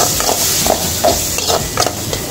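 Gravy being stirred into tomato fish rice in a pot: a steady soft hiss with repeated scraping, stirring strokes at an uneven rhythm, close and fairly loud, with no talking.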